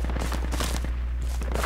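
Gunfire in the military shooter game Project Reality, a quick burst of sharp rapid shots layered over a low constant hum, close and punchy.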